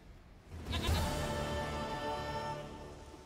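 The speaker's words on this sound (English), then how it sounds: "Goat of mine, dearest, sweetest goat." A goat in The Witcher 3 video game gives a single drawn-out bleat, wavering and nasal, fairly faint over a low ambient game background with no talking.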